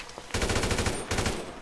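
Automatic gunfire from a weapon in GTA 5, two rapid bursts of closely spaced shots, loud and near, separated by a brief pause.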